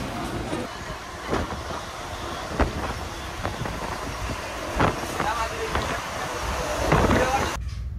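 A train rumbles steadily with clacking rail noises and wind, with speech faintly mixed into the busy noise.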